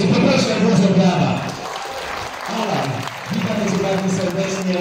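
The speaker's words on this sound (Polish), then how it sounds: "Poproszę o dużo brawa." Applause from the audience at a boxing tournament for the Anwil Cup, a moderate wash of clapping that swells and dips over a few seconds, with a voice talking over it and low harmonic music or voice tones underneath.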